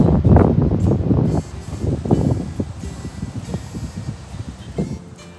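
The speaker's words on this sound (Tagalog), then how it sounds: "Lakas na ng hangin." Strong gusts of wind buffet the microphone in rough, uneven bursts, loudest at the start and then rising and falling in rustling surges outdoors near water, with no talking.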